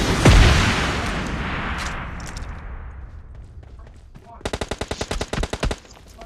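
Bursts of automatic gunfire in a fast-paced shooter video game: a loud opening blast fading into a rumbling tail, then a rapid, evenly spaced volley of about a dozen sharp shots near the end.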